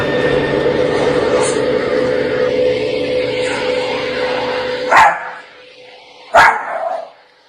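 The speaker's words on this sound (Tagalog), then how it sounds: "Ang aso ay may tinatahulan sa sulok ng kwarto" A dog barks toward the corner of a room holding a small table, picture frame and photo album: two sharp, loud barks near the end, the first over a steady background hum that drops away.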